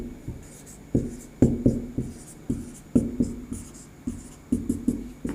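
Chalk or pen tapping and scratching out a math formula by hand, a series of crisp irregular strokes and taps close by, one after another without speech.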